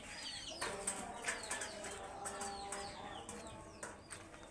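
Farm pigeons coo softly while wings flap in repeated brief bursts, moderately close and fairly quiet, with steady background noise.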